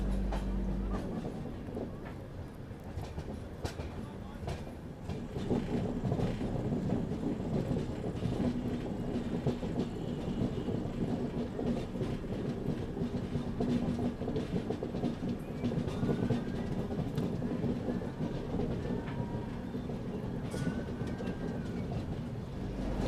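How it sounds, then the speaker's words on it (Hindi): The Rajdhani Express runs through a sharp curve just out of Secunderabad, heard from inside a First AC coach as a steady rumble of wheels and rhythmic clickety-clack, with faint squeals rising over the dense, continuous rail noise. "सिकंदराबाद से निकलते ही क्या ज़बरदस्त कर्व लेती है अपनी राजधानी।"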